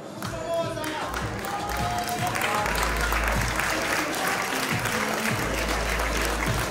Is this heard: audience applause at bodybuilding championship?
yes